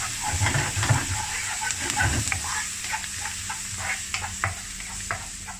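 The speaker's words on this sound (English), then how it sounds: "ginger, garlic chop, little chili chop. We need to saute" Chopped ginger, garlic and chili sauté in a hot pan with onion, a steady sizzle broken by stirring scrapes and clinks close by, with no voices.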